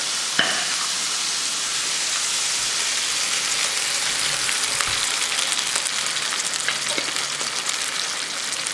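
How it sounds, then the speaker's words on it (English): Shakshuka sauce poured into a hot pan sizzles loudly and steadily, a dense bright hiss with a few faint clinks of the pan, continuous throughout and without talk. "You're going to throw in the Shakshuka sauce"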